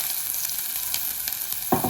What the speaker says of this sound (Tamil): நாங்கள் சின்ன பீஸாக கட் பண்ணி வச்சுருக்கிற ஒன்றுங்க வெங்காயம் போடுவோம்